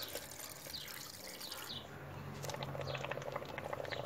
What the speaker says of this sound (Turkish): Suyunu da ilave ediyorum yaprağımın.